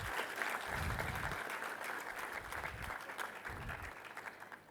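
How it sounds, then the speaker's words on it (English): Audience applause welcoming Dr. Nageshwar Reddy at a guru's birthday celebration, a steady crowd clapping that runs throughout with a low rumbling underneath, moderately distant. "Let's welcome Dr. Nageshwar Reddy with a big round of applause."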